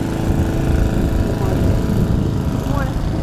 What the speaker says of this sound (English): I'm going past the guy with the lawnmower